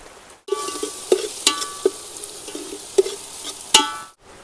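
Onions and a little tomato fry in hot oil in a pan for chicken curry at an outdoor picnic, a steady close sizzle broken by several sharp stirring clicks and pops.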